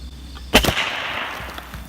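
A single sharp shot from an Airforce Texan .357 big bore air rifle fired into watermelons, a loud crack followed by a brief splattering burst, then quiet.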